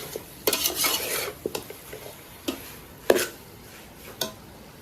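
Chicken pieces roasting in masala in a village kitchen pan, stirred with a metal spoon that scrapes and knocks against the pan in irregular bursts over a faint sizzle, with no talk.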